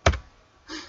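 A single sharp press of the Enter key on a computer keyboard, one close click followed by a faint softer tap, with no talk.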